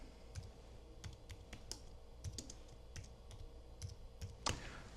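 Light clicking of a computer keyboard as a place name is typed into a photo workflow program, a short quiet burst of scattered keystrokes.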